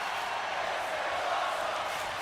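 Steady crowd noise from a wrestling arena in WWE 2K24, a continuous wash of cheering and murmur holding at an even, moderate level throughout without distinct peaks.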